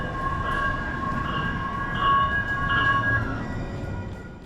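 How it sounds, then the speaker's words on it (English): Metro Transit Blue Line light rail train arriving on a northbound run toward downtown Minneapolis, a steady rolling rumble with faint high squealing tones rising and swelling midway, no voices. "A northbound Blue Line train to downtown Minneapolis is arriving on track"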